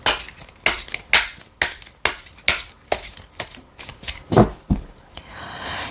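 Tarot cards are shuffled and drawn in a series of about a dozen sharp, close riffling bursts with short gaps between them, loud and alone without talk.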